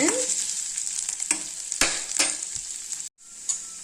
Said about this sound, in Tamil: நல்லா வதக்கிக்கலாம் இஞ்சியை